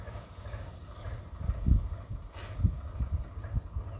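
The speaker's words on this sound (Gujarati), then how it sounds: "હવે ટ્રેક્ટર પાછી મારશે" A low, throbbing diesel tractor engine rumbles steadily nearby as the tractor reverses at the edge of a groundnut field during pesticide spraying, swelling in heavy bursts as it works, with no voices over it.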